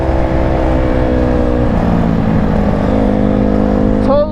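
A Yamaha YZ450 dirt bike engine drones loud and close, a steady throaty idle-to-midrange note that holds with slight pitch shifts before a sharp rise at the end.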